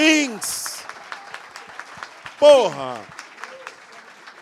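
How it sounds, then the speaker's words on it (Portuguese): Audience applause for the writer Paulo Lins during a talk event, a light patter of claps running underneath loud, excited voices that shout and call out over it. "uma salva de palmas"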